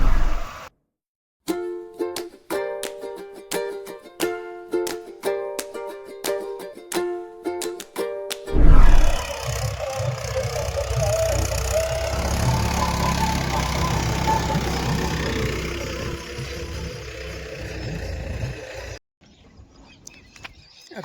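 A farm tractor levelling soil in a field drones steadily at close range, after an opening stretch of sharp rhythmic clicks, before the sound cuts out near the end.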